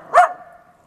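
A fluffy dog met along a cycling route near Hachioji barks once, a single loud, sharp bark close by, followed by quiet.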